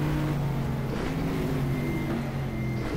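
Race car engine at Sebring in the GTR2 racing game, a steady droning engine note with a faint rising pitch as the car approaches, held at a moderate level throughout without speech.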